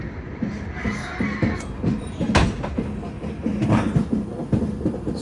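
The Secunderabad–Vasco Da Gama bi-weekly express runs along a curve, with a steady low rumble and a regular clickety-clack of wheels over rail joints, plus occasional louder knocks and rattles from the carriage.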